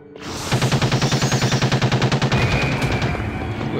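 Machine gun fire in the video game Nosferatu: Wrath of the Malachi, a loud sustained burst of rapid, evenly spaced shots lasting about three seconds before tailing off into echo.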